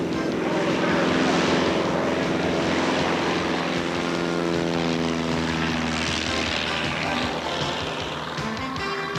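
A propeller airplane engine drones loudly and steadily up close at an aviation expo, its pitch shifting slightly as the aircraft moves, with voices faintly underneath.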